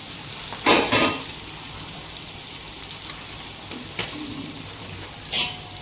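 Onions and curry leaves frying in a pan with chana and urad dal, a soft steady sizzle with a few louder bursts of spatter and utensil scrapes.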